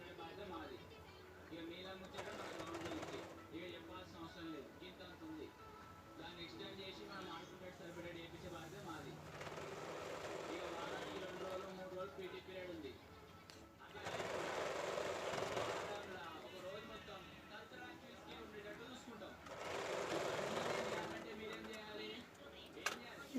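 A sewing machine stitches piping onto the neckline of a baby frock made from an old men's shirt, its buzzing running in several separate bursts of a few seconds each, fairly quiet, with someone talking in between and over it.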